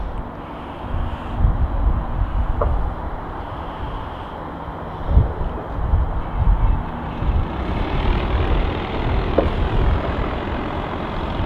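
An airplane on approach to Manchester City Airport, its engine drone a steady, broad roar that holds evenly for over ten seconds over outdoor background noise, with no talk.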